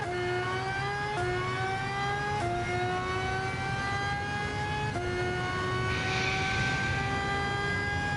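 A race car engine in the GT Sport video game, with a redline of 17,000 RPM, screams steadily upward through several gears. Each climbing whine breaks briefly at a shift, loud and continuous with no talking.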